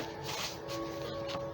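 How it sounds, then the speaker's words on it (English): A deck of cards shuffled at close range for a card reading, giving short papery riffles and brushing bursts over a steady background hum. "Let me get a shuffle on these"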